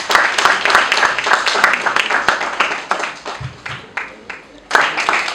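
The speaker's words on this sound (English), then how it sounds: "Let's clap for him as he comes forward." A crowd applauds steadily at a graduation ceremony in Nairobi, with dense, continuous clapping, loud and close, thinning briefly before a fresh burst near the end.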